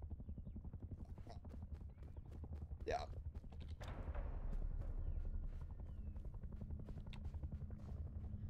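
A helicopter in the video game Rust produces a fairly quiet, regular thumping rotor pulse that grows somewhat louder partway through, with a person talking over it.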